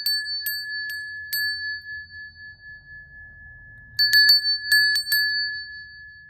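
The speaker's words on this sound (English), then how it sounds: "Just using a brass bell." A brass bell strikes several times, clear ringing tones that linger, first a few spaced strikes, then a quicker cluster of rings after a pause.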